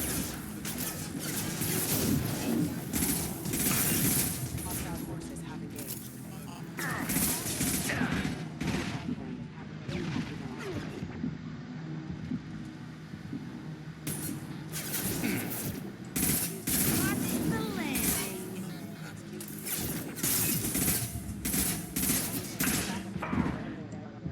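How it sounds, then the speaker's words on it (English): Heavy gunfire in a video game, with dense bursts of shots and crashing impacts running almost continuously and loudly under people talking. "Taking heavy fire."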